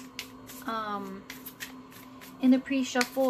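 Soft riffling and shuffling of tarot cards in short bursts, heard under a voice speaking.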